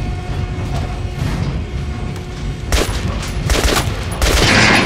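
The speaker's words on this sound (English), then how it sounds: "Try shooting for the center of the regular dummy's chest." Gunshots at a training dummy on a shooting range in the video game Metro: Last Light, with a few sharp cracks and bursts over a steady loud background hum of game ambience.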